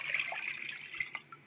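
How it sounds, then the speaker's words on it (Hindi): Water pours from a jug into a pressure cooker holding beef for yakhni pulao, a brief, faint splashing stream that tapers off. "इस तरह कुकर में डाल दिया है, 1 जग पानी डाल दिए।"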